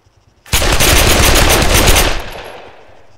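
Sustained automatic gunfire in the video game Arma 3, a loud, rapid burst of shots lasting about two seconds before trailing off into a fading echo, with no talk over it.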